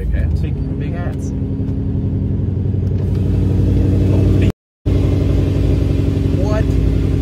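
Car with a Procharger supercharger pulling hard during a ride, a loud mid-pitched engine drone with rising whine and gear changes, briefly cutting out before resuming; voices speak over it.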